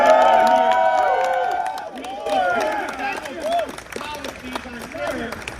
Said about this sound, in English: auto workers cheer for Trump